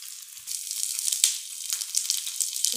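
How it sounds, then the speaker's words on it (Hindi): Paneer cubes fry in hot oil until golden brown, a steady close sizzle and crackle with no talk. "बस गोल्डन ब्राउन होने तक इसको हम फ्राई करेंगे"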